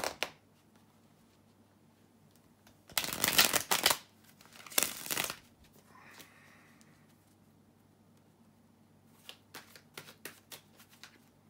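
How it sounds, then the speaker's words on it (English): Tarot cards being shuffled in two quick riffling bursts, then lighter flicking and tapping of cards, close up in a quiet room. "shuffle the tarot cards"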